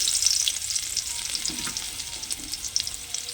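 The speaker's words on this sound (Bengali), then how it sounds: "ওই তেলের মধ্যে দিয়ে দেব কালো জিরে কালো জিরে ফোড়ন দিয়ে ওর মধ্যে দিয়ে দেব থেতো করে রাখা রসুন" Nigella seeds and crushed garlic hit hot oil in a pan, giving a steady, close crackling sizzle with small pops and faint stirring throughout.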